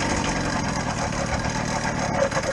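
A motorcycle engine runs just above idle on a snowy, sleety ride, a steady low, fairly quiet hum with slight vibration and no speech.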